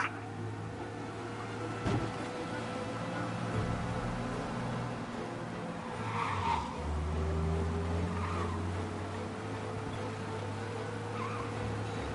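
A car in a Mafia chase drives fast with a steady droning engine and some tire noise, the pitch shifting as it speeds up and slows, at moderate loudness with no talking over it.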